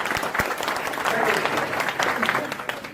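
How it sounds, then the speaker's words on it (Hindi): Audience applause at a network marketing training session, a dense steady clapping that fills the room throughout, fairly loud and continuous with no pauses. "इनके जोरदार ताली होगी"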